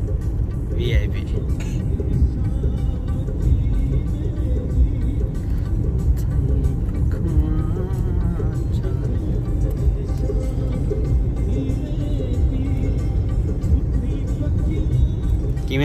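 A car's engine hums steadily and low during a driving lesson, heard from inside the moving vehicle beneath almost constant conversation among the occupants.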